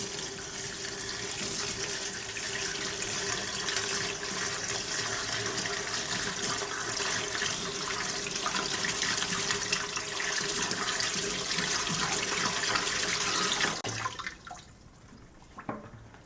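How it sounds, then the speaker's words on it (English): Water poured steadily into an aquarium aquascape, a continuous close splashing rush that runs for about fourteen seconds and then stops, leaving faint trickles. "I'm going to add the water to the scape."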